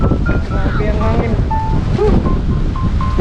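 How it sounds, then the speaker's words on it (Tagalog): Strong wind gusting at a beach campsite, roaring steadily and loud against the microphone with surf-like rumble throughout. "Grabe ang hangin."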